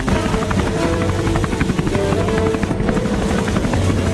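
A helicopter thrums loudly and steadily, its rotor chop pulsing throughout with no pauses.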